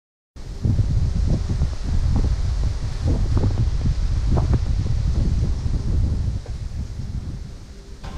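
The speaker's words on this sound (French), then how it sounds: "Le vent se lève de ouf." Strong wind at a lake roars and buffets the microphone in continuous gusts, loud and close, with no talk.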